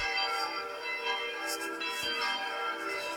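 Church bells ring together in a dense, continuous peal of overlapping tones, fairly even in loudness, with no voices over them.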